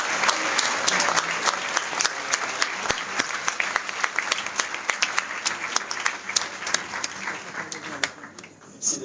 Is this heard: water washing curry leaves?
no